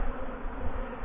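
Steady buzz of honeybees around beehives during autumn feeding, a dense continuous hum with no voices, fairly close.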